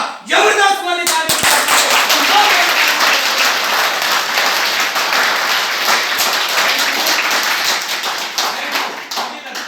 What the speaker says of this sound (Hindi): एक मौका और दिया जाएगा, जबरदस्त वाली ताली।